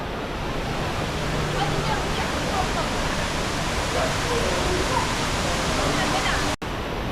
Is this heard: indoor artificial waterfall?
yes